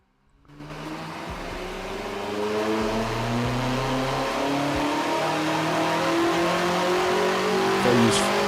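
A BMW M8's twin-turbo S63 V8 engine revs up on a dyno and holds at a loud, steady roar with a rising turbo whine, close and continuous for several seconds.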